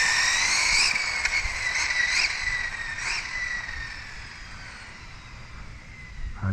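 An Exceed Mad Drift 1/8 scale RC car on 3S power at full throttle whines with a high, sliding motor pitch that rises and falls as it passes, fairly faint against outdoor background noise.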